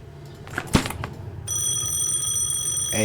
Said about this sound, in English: Hey, there's the phone.